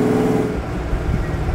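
A 1936 Alvis Silver Eagle with a supercharged 4.3-litre straight-six engine, running with a steady close engine drone and slight surging throughout a short stretch, no talk.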